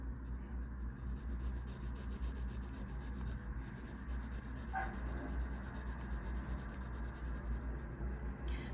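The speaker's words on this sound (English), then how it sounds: "Finally starting to color Nea's hair." A Mitsubishi colored pencil scratches and rubs across paper in a steady, continuous shading stroke, faint and close, under a constant low background hum.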